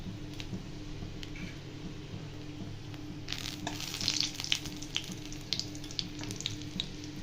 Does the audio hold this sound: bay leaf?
yes